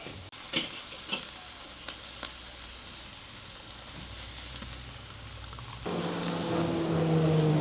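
Marinated chicken wings for Mexican pollo asado sizzle and char on a grill as leftover marinade is added, a steady close hiss broken by a few sharp clicks and swelling louder near the end.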